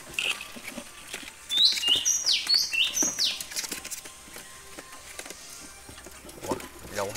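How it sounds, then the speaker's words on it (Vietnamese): Bird chirps from a female finch-like songbird at a Vietnamese bird sale, a quick series of high tweets in a burst, with people talking in the background. "Đây chim mái mọi người ơi, chim mái chuyền."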